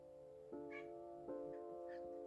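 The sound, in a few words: cat meowing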